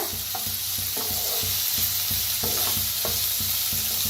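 Onion roasting and sizzling in a pan, with a steady loud frying hiss and repeated stirring scrapes roughly every half second.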